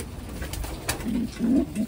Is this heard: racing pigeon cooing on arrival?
yes